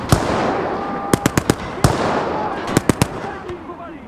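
Gunfire crackles through a Siege of Warsaw video game battle, a rapid run of sharp close shots followed by a pause and another quick volley, over dense battlefield noise with people shouting.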